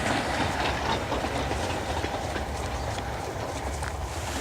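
A train on the Tyneside Railway near Alston rolls past close by, a loud, steady rumble with rhythmic wheel clatter that holds unbroken throughout.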